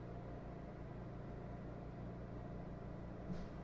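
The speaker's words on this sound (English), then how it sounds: "Sounds like someone's trying to mow in the dark." A lawn mower engine running outdoors at night in a rural spot, a steady unbroken low drone that is faint and constant throughout.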